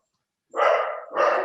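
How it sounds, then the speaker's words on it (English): Two loud, close dog barks, one right after the other, break an otherwise quiet indoor room where three dogs are kept. "Sorry about the noise. There's 3 dogs here at the moment"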